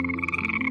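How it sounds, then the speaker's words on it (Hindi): Frogs croaking by a pond in a cartoon, a steady, loud, close buzzing croak that runs continuously and without pauses. "मेंढक टर्राते"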